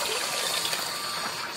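Water for turkey stock pours steadily for jollof rice, a continuous splashing gush close to the microphone and fairly soft throughout the short moment.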